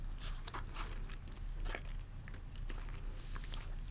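Bubble gum being chewed close to the microphone in an ASMR setting, Big League Chew, with wet smacks and soft crunchy bites repeating steadily over a low background hum, no talking.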